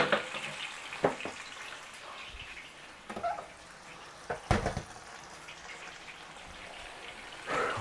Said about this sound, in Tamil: வடிவாக அரிசி இருக்கா கழுவி வைக்குவோம், கழுவினா தான் நல்லது.